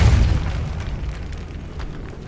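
A Depulso spell blast in Hogwarts Legacy on PS5, a single heavy low boom that hits at once and then rumbles away over a couple of seconds, loud and close, with no voices.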